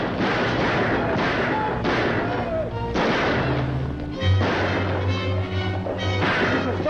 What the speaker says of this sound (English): Somebody's shooting up the town.